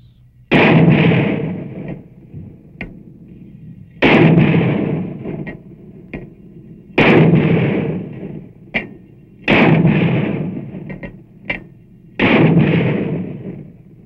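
Battalion weapons fire in a military training exercise, mortars and recoilless rifles among them: five heavy, booming blasts roughly every two and a half seconds, each with a long rumbling tail, with sharper single shots cracking in between.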